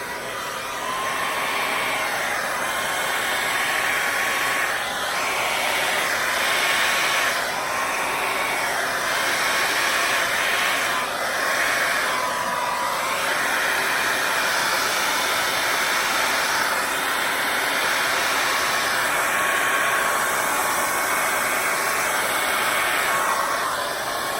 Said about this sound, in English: Now we blow dry it.